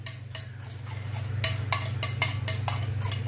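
A teaspoon of curd is whisked for a gravy with a utensil, giving a series of light, rhythmic clinks and scrapes against the bowl over a steady low kitchen hum, with no talking.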